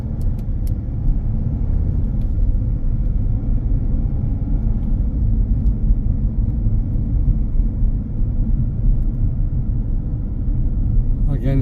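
A car driving along a 30 mph road in Huddersfield during a driving test, with a steady, close low engine and road rumble throughout and a few faint clicks.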